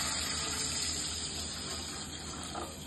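Water gushes steadily into a cooking pot for rice and moong dal pongal, a continuous close pouring rush with no speech.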